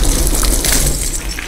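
Water gushes and splashes continuously over a face during an interrogation scene in the Call of Duty: Modern Warfare video game, loud and close with a steady rushing pour and no talking.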